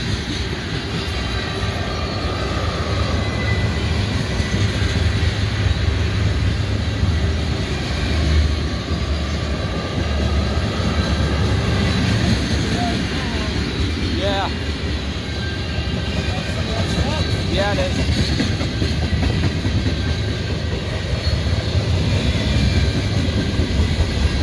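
A slow CSX manifest freight train with a mid-train distributed power unit rolls past outdoors in the sun, a loud continuous rumble of rolling cars with faint squeals and clanks throughout.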